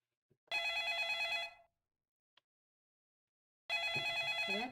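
A telephone ringtone in a homemade Five Nights at Freddy's clone game built in Scratch rings in two loud, rapidly trilling bursts of about a second each, separated by silence.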